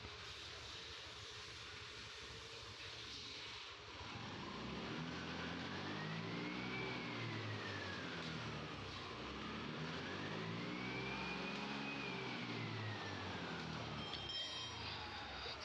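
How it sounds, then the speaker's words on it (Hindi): A TVS Jupiter BS6 scooter with a new spark plug, its engine revved twice in long rising-and-falling swells after a quieter idle, close and loud with no talking. "तो अब मैं इसको रेस दे के दिखाता हूँ जो कि हमारी स्कूटरी है"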